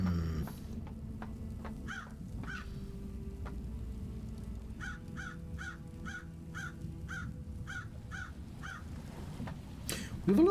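Repeated crow caws from the Paradise Killer video game ring out in a steady series at mid distance over a low ambient hum, with a louder burst at the very end.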